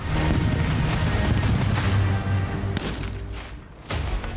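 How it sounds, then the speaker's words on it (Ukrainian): Heavy, rumbling blast from TNT charges set off during a military unit training exercise, rolling and fading, with a couple of sharp cracks near the end. "інструктори заклали вибухові установки, зокрема тротилові шашки, які за командою імітували вибух"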